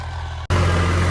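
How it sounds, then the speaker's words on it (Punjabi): A loud, close Holland tractor engine with a rotavator attached, rumbling with a steady low drone, briefly cutting out before resuming stronger and heavier. "ਹੁਣ ਆਪਾਂ ਬਹਿ ਗਏ ਜੀ ਰੂਟਾਵੇਟਰ ਟਰੈਕਟਰ ਤੇ ਆਪਣੇ ਹੌਲੈਂਡ ਤੇ"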